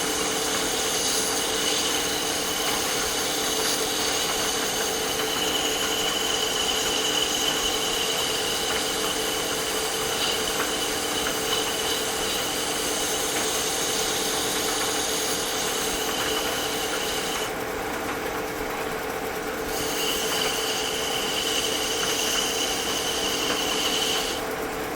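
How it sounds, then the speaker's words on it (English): A walnut chess pawn spinning on a wood lathe is sanded, giving a steady, loud whirring hum with a continuous abrasive rub that briefly eases near the end before resuming, with no talking. "Generally, you don't want to sand this much."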